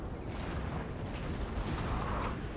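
Artillery fire in the video game Napoleon: Total War, a dense rumbling barrage of booms and bursts during a battle, loud and continuous with no talk.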